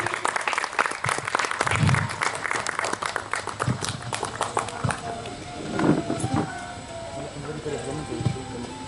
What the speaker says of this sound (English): Have a big round of applause everyone to welcome our chief guest of the day